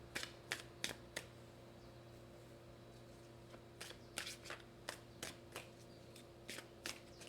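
Tarot cards being shuffled by hand, a string of crisp riffling snaps and slaps in uneven bursts, close and fairly quiet over a steady low room hum, with no talking.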